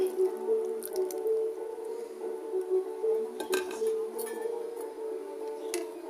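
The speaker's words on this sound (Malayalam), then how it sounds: "ഇനി നമുക്കതൊരു പാത്രത്തിലോട്ട് അരിച്ചു മാറ്റാം" Cooled water is strained into a vessel, a thin steady trickle with soft wet squishing and a few light clinks of the pot and strainer close by, continuous and fairly quiet, with no talking.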